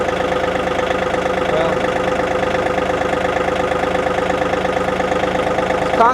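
Farm tractor engine running at a steady idle nearby, a continuous rhythmic mechanical chug with light knocking and no change in pace.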